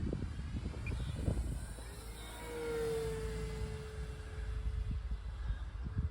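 Whining engine of a small FMS P-40 Warhawk model airplane passing overhead, rising and falling in pitch as it flies by, with wind buffeting in the foreground.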